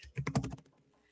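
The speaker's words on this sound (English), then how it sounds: "first you have to learn how to type" A brief, quick burst of keystrokes on a computer keyboard, several close clicks rattling together within half a second before fading to quiet.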